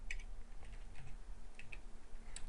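Quiet, close computer keyboard typing with a few scattered, irregular key taps over a low steady hum, no voices.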